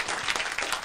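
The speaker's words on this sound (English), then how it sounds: "give applause to Pak Akbar" Brief burst of audience clapping for a guest lecturer at a metallurgy conference, a short patter of hands from a moderate crowd, fairly close.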